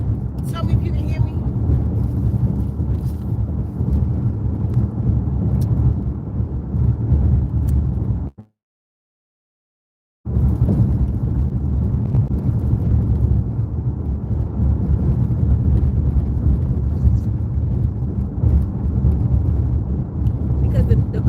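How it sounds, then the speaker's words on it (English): Loud, constant low road rumble from inside a moving car, cutting out briefly to silence partway through before resuming. "the road is extremely noisy right now"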